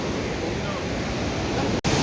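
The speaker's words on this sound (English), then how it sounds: "have fun in the mist that forms as the water trickles down, actually roars down" Iguaçu Falls in Brazil roars close by, heard from a bridge in the mist. A dense, unbroken rush of water fills the whole stretch, with a brief dropout just before the end.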